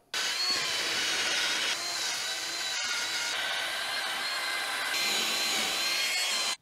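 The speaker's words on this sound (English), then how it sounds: "we've cleaned up the face of the hub with the wire wheel, some brake cleaner, and a normal brush" A wire wheel on a power tool scrubs the face of a BMW M3 Competition wheel hub, giving a continuous loud whirring grind for several seconds with a brief break in the middle.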